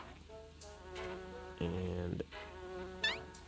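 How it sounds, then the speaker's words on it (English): Mosquito buzzing in the mobile puzzle game Brain Test 4, a thin, wavering whine that keeps going across the clip. Brief spoken words come in over it partway through. "we put our finger on the screen and the mosquito kind of flies around"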